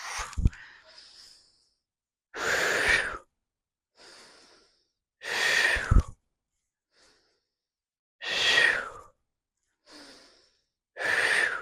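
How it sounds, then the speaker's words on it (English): Slow, forceful exhalations during a yoga breathing exercise for calming anger, four long breaths blown out at a steady pace with soft inhales between, close and alone in a quiet room. "we're going to just breathe in and just blow it out"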